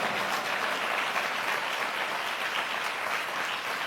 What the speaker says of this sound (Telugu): Come on, everybody, clap your hands and welcome the presence of Lord Jesus Christ.